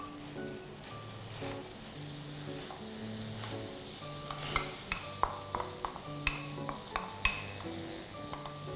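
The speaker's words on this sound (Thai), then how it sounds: "นำตัวเม็ดสาคูที่เรานำไปผ่านน้ำไว้เมื่อกี้นะคะใส่ลงไปเลยค่ะ" Soaked sago pearls are tipped into boiling water in a pot and stirred, giving a soft bubbling simmer with scattered clicks and taps of a spoon. Faint low tonal sounds run underneath, and sharper taps come in the second half.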